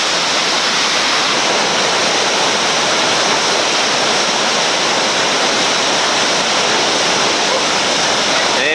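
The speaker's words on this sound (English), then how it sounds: "This is a chance to safely swim a rapid and get acclimated to what it's like swimming in whitewater." Whitewater rapid in West Virginia roaring steadily and loudly from start to finish, a dense unbroken rush of churning water with no pauses, filling the whole clip up close.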